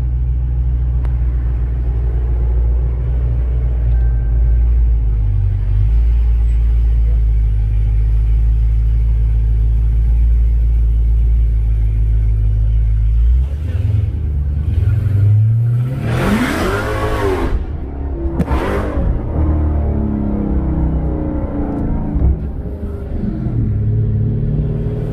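A modded Shelby GT500 or Dodge Charger Hellcat on a dyno: a steady low engine rumble, then a couple of loud, sharp revving bursts near the end over continuing rumble.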